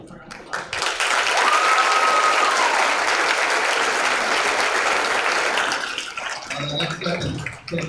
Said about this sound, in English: Coach Day also got Coach of the Year, so we should give him a round of applause.